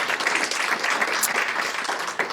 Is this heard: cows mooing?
no